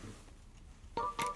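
Telephone dialing tones on a radio station phone system: after a quiet lull, two or three short, bright tone bursts sound close together near the end, fairly faint.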